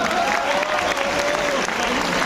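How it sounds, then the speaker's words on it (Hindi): A large university audience claps together in dense, steady applause that fills the whole hall and continues without a break. "ताली बजा के बताओ एक बार सारे लोग, जहां से वहां तक, ऊपर तक।"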